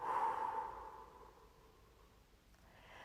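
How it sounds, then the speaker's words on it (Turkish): A slow, soft exhale through the mouth during a guided breathing session, close and quiet, fading out over a couple of seconds with no talk. "Tutun nefesi ve yavaşça ağzınızdan verin."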